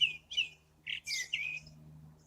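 A blackbird sings outdoors in spring blossom, a run of short clear whistled phrases and chirps separated by brief pauses, moderately near over a low steady hum.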